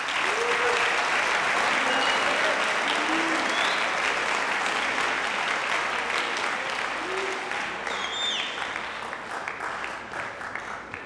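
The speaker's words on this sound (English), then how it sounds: "So please give them a round of applause." An audience at a junior high spring band concert applauds, dense clapping filling the hall and slowly thinning toward the end, with a few faint voices mixed in.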